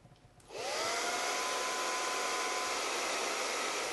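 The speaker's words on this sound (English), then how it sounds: "I'll take my blow dryer to further like speed up the drying process" A blow dryer switches on and runs in a steady, loud whooshing roar, drying hair close by, with a faint whine fading in its first seconds.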